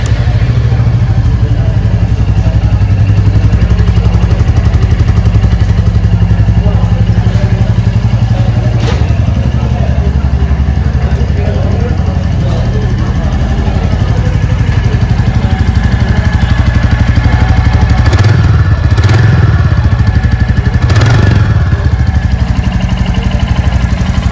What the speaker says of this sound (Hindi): तो स्टार्ट करके देखते हैं क्लासिक थ्री का साउंड कैसा है